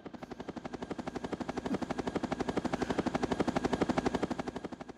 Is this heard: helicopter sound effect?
yes